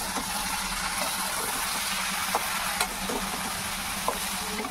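A mutton-style curry is stirred in an uncovered pan, a loud steady sizzle and hiss with a few faint spoon knocks, heard up close with no talking.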